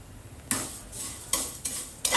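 Vermicelli roasting in a pan while a spoon stirs it: dry scraping sweeps repeat in quick strokes over a steady soft sizzle, close and fairly loud.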